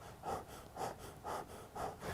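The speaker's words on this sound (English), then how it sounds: "if you are hunched over and stressed out and you're breathing like this" Stressed breathing from a person hunched over, demonstrated as four rapid, evenly spaced breaths close to the listener, with no talk over them.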